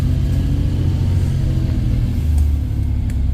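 A B7RLE Eclipse bus engine rumbles steadily at low pitch, with a faint whine from the gearbox above the drone.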